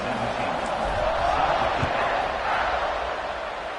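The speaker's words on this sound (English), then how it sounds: "this crowd now ready to get behind them" A football stadium crowd roars in a sustained wash before a kickoff. The noise is loud and distant-sounding and rises and falls slightly, with a brief thump partway through.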